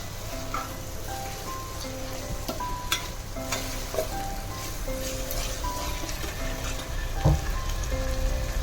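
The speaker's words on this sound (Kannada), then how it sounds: "ನುಗ್ಗೆಕಾಯಿ ಬೇಯ್ತಾ ಇದೆ." Drumsticks and tomato fry in a pan with a steady, close sizzle and crackle that runs unbroken throughout, with occasional faint clinks and no talking.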